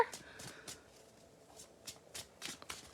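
A deck of playing cards being shuffled during a live card reading, with several quick riffling bursts spaced across the moment, close and fairly soft.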